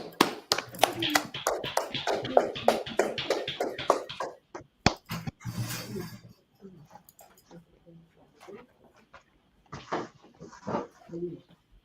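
Rapid, close clapping from a small group, a dense run of sharp claps lasting a few seconds, then scattered taps and talking.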